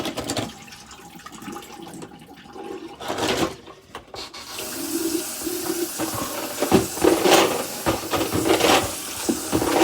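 Tap water runs steadily while a Barbicide disinfectant container is rinsed out, part of disinfecting implements; a broad, hissing splash fills the second half after a quieter start, with no talking.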